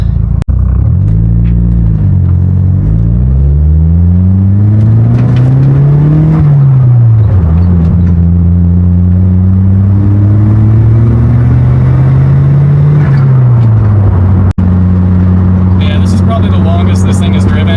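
Mitsubishi Eclipse GSX engine running with a suspected boost leak, a loud close rumble rising and falling through several revs and shifts, with a sharp click near the end.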